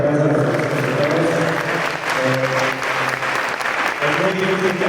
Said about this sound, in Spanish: Por favor, un aplauso a través de los presentadores.